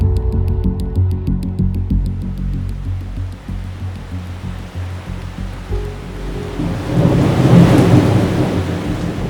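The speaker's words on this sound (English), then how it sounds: "It was a night consumed by relentless rain. Thunder cracked across the sky as violent winds battered the sprawling mansion." Thunderstorm with heavy rain and wind: a steady roar of downpour with rumbling thunder, swelling into a louder, closer crash near the end.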